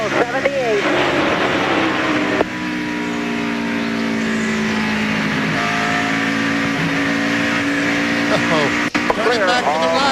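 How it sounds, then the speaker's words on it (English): A NASCAR Busch Series race car driven by Greg Biffle during a lap at the 2001 MBNA.com 200, its engine roaring loudly and steadily with pitch swings through shifts and corners, with race commentary talking over it. "Let's take a lap, folks. Right along with Greg Biffle as he tries to keep up with the 74. And listen"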